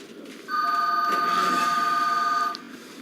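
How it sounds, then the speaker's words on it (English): Telephone ringing once, a bright steady electronic ring lasting about two seconds over faint background hiss, then stopping. "There goes the phone."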